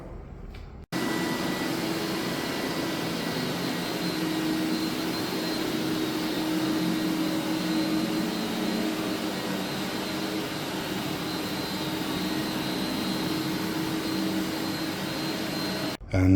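A scrubber dryer runs across a commercial floor with a steady, loud whirring drone that holds unbroken for about fifteen seconds, starting and stopping abruptly.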